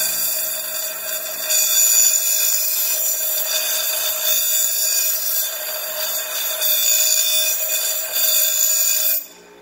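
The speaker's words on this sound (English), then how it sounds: "I'm gonna just use the bench grinder." A bench grinder grinds metal pieces for a homemade entrance gate, giving a loud, close, steady high-pitched whir with a scraping rasp that carries on almost without a break before stopping abruptly.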